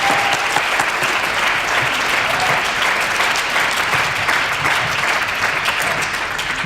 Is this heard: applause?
yes